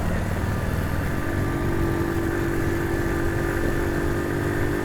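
A 2022 Honda CD 70 motorcycle rides through hilly terrain, its engine drone blending with steady road and wind noise at an even level throughout, with no talk.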